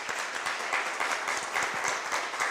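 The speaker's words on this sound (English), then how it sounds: "There's a round of applause for her." A contest audience at a pitch competition gives a round of applause for a contestant, dense even clapping holding steady and fairly loud with little voice underneath.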